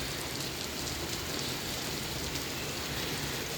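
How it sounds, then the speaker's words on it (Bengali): Heavy rain pours down on a cold winter afternoon, heard from a balcony. It makes a dense, steady hiss with no breaks and no voices. "এই যে দেখো কি মুষলধারা বৃষ্টি হচ্ছে"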